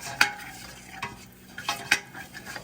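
A flour-and-fat paste being worked with a whisk-like utensil in a pan: a few sharp scraping strokes with light sizzling between them, close by, no voices.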